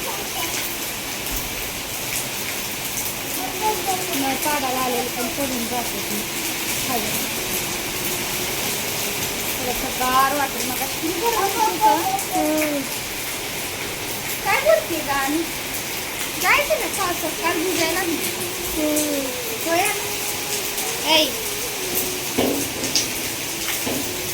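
Rain falls steadily during a windy storm, a constant broadband wash of drops under intermittent talking voices throughout.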